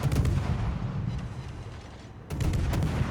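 The destroyer Kléber fires its gun armament in a naval battle game: booming salvos crack out loudly at the start, the rumble fades, then a second burst of shots hits sharply near the end.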